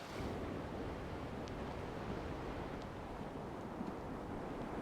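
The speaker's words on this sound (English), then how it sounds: "If you look, you'll actually see some swells that are starting to come in." Ocean swells rolling in off Maui's north shore near the Jaws big-wave break, a steady broadband wash of surf with wind noise over the microphone, continuous and fairly distant.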